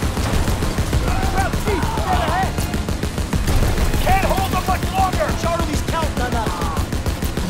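A mounted gun fires in the Call of Duty video game, delivering dense continuous automatic bursts in the foreground while voices shout over the clatter.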